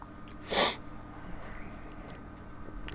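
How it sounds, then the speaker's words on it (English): One sudden sneeze from a person playing a Pokémon card game, short and fairly close, followed by quiet room tone and a faint sniff. "I'm gonna sneeze."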